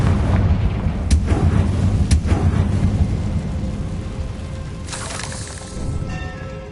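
A Confringo fire spell going off in Hogwarts Legacy, a deep rumbling boom with crackling bursts and a rolling low roar that swells and fades, loud and close with a second blast near the end.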